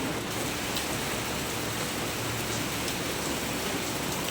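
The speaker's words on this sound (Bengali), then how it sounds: "জোরে বৃষ্টি হয়ে যাচ্ছে" Heavy rain falls steadily in an early-morning outdoor setting, a dense, even wash of hiss with no gaps, no speech and no distinct drops standing out.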